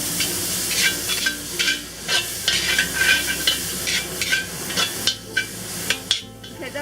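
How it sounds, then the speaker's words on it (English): Minced pork stir-fries in oil in a pan, sizzling steadily as a spatula scrapes and tosses it in a quick repeating rhythm, close and fairly loud. "Cook the pork. Cook it for about a minute until it becomes opaque."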